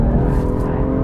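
BMW M2 from 2016 drifting with oversteer on a race track, engine roaring loud and steady with a dense, continuous rumble throughout.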